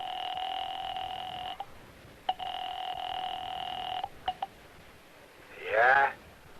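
Telephone dialing effect in an old-time radio detective drama: a long steady electronic phone tone, a break, a second long tone, a few sharp clicks, then a brief voice at the end.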